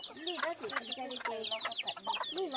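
Several chickens cluck in a busy overlapping flurry, close and loud, with sharp repeated calls running throughout.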